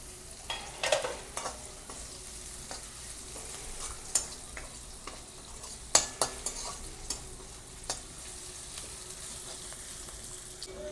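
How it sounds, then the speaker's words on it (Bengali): Chopped onion frying in a pan, a soft steady sizzle broken by irregular scraping clicks of a spoon stirring, close and fairly quiet with no voices. "একটু ভেজে নেব পেঁয়াজটা"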